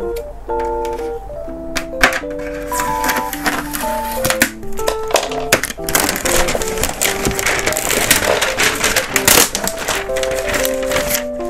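Scissors cut open the cardboard and plastic packaging of a folding writing desk, making crackling, crunching and snipping noises close by, over steady background music.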